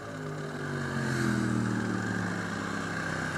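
Motorcycle engine droning steadily while riding on a group ride with bikes including a 525 EXC, MT-07 and Grom, with a rising and falling rev and wind rush, fairly close and without talk.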